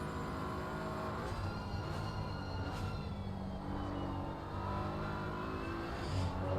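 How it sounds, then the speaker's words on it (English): GT3 race car engine at the Paul Ricard circuit, a steady sustained drone with harmonic whine, holding at a constant level throughout with no talk over it. "The sound of the engine is just beautiful to hear."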